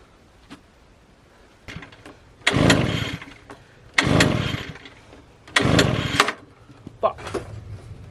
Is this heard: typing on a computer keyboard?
no